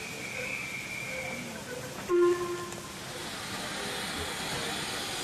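GWR 4575 class steam locomotive 5526 arriving at Kidderminster on the Severn Valley Railway, a steady rumble of the train with a short, loud whistle-like blast near the middle before the rolling noise continues.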